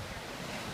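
Ocean waves roll against a lava rock shore at a black sand beach in Hana, Maui, heard as a steady, broad wash of surf blended with wind noise, with no voices.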